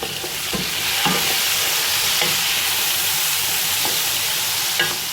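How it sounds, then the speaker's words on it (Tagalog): Onions and tomatoes fry in a pan for lamb machboos, with a steady loud sizzle and hiss, broken by occasional scraping stirs and clicks of a utensil against the pan. "Now our onion is ready, so we will put our tomato"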